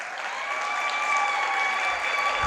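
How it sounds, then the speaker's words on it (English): Steady applause from a large graduation convocation crowd, many hands clapping at once in a dense, continuous wash with no pauses. "let's give another good round of applause for our graduates."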